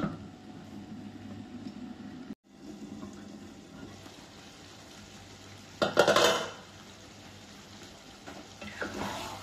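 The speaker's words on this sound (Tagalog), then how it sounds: "Takpan ko muna ulit natin." A lid set down on a cooking pot of beef with garbanzos, a short metallic clatter midway through, with faint kitchen clinks and a low steady hum around it and no talk.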